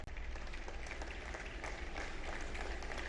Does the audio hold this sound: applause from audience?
yes